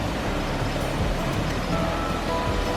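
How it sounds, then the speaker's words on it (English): Water from two small waterfalls along a boardwalk section of the Mullerthal hiking trail in Luxembourg pours in a steady, loud, broadband rush with no pauses. "It's like 2 miniature waterfalls."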